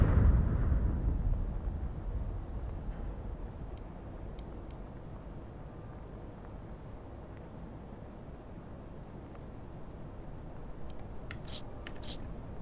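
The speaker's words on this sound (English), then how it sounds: "What was that explosion? That didn't sound like a regular grenade." A loud explosion in the shooter game Escape from Tarkov opens with a heavy low boom that decays into a long rumbling tail, followed by a few faint sharp clicks and pops.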